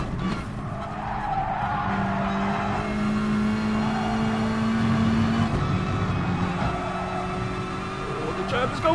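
Race cars in a racing video game, one spinning and skidding, with a long sustained tire squeal and engine drone that fills the whole stretch at steady loudness.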